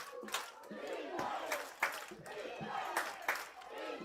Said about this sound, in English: Hickman County's crowd livelier and livelier with every passing second